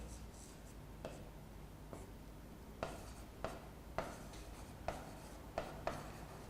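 Chalk or marker tapping and scraping on a classroom board as a physics teacher writes, with soft strokes and several sharper taps over a faint room hum.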